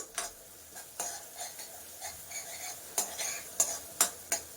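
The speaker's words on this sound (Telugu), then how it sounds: "ఆనియన్ బాగా ఫ్రై అవుతుంది చూడండి" Sliced onion with a pinch of turmeric fries in a pan for an egg omelette, a soft sizzle under repeated sharp spatula scrapes and taps that come in an irregular rhythm, close and fairly quiet.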